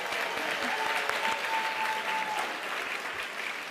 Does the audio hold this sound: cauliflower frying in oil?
no